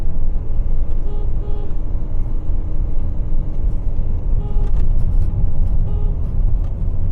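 A car towing a caravan climbs an uphill road, its engine holding a loud, steady rumble under strain for several seconds, close and continuous with no voices over it.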